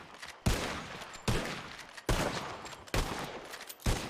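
Gunfire rings out in a Red Dead Wild West roleplay game, five loud, sharp shots evenly spaced under a second apart, each with a long echoing decay.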